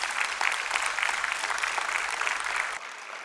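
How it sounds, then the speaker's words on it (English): A graduation audience at a medical college ceremony in Bangalore claps in sustained applause, steady and dense, then drops off sharply near the end. "She needs a big round of applause"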